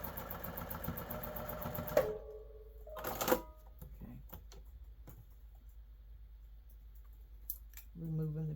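A sewing machine stitches a quilt block in short bursts of fast mechanical whirring, one at the start and another at the end, with quiet handling clicks and a voice talking between them.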